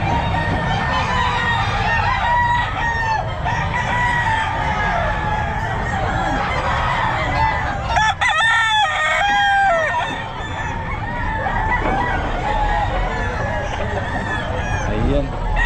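A white kelso stag rooster at a pet market crows repeatedly among clucking fowl, loud and nearby, with market noise and people talking around it.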